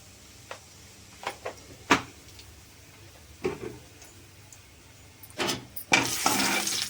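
Tempering spices sizzle in hot oil for a raw wood apple chutney, scattered ticks and short crackling bursts building into a louder, denser sizzle near the end, close by.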